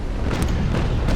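A ship's cannon booms in Naval Action, a single deep, heavy blast rolling out in a broad low rumble over the constant noise of a naval battle.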